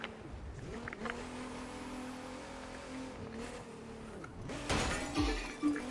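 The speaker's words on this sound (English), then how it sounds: "this car's actually a lot better than what I thought" A race car's engine in a racing video game drones and revs steadily, its pitch shifting through gear changes, before a louder burst of scraping and impact noise near the end; no one speaks.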